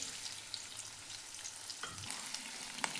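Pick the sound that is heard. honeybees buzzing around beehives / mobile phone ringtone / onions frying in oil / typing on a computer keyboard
onions frying in oil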